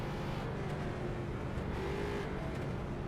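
Street stock race cars drone together in the iRacing sim at Lanier National Speedway, running at pace behind the pace car. A dense, steady engine roar fills the clip without any talking.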